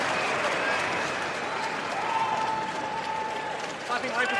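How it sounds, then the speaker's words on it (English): Continuous clapping and crowd noise from a large tennis audience at Hisense Arena during the Australian Open, with people talking over it and a brief voice rising near the end. "Clapping right before I hit a second serve."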